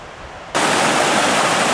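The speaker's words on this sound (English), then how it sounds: "Comes another little side creek." A small side creek on a mountain trail rushes loudly and close after a quiet start, a dense steady wash of flowing water.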